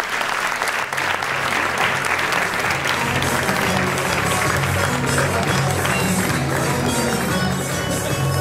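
Sustained applause from an audience at a school play performance, a dense steady wash of many hands clapping throughout, loud and close, with no talking over it.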